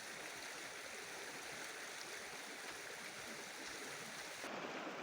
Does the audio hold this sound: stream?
yes